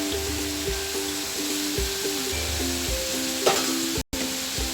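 Papaya, long beans and tempeh being stirred in a pot for Betawi boiled vegetable soup, a continuous close sizzle with scraping stir strokes and a brief clatter near the end, no voices.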